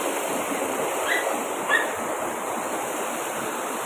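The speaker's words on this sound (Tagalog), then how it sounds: "Ang lakas ng agos." A strong floodwater current after heavy rain or a storm roars as a dense, continuous broadband rush, loud and close, with a couple of faint brief tones above it.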